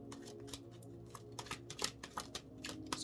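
A large deck of tarot cards is shuffled by hand up close. It makes soft, quiet ruffling with a run of irregular crisp clicks and slaps as the cards fall together, and no one speaks.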